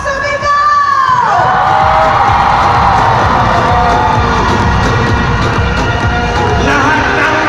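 A large crowd at a lively indoor rally shouts, whoops and cheers loudly and without a break, with a few voices rising above the din.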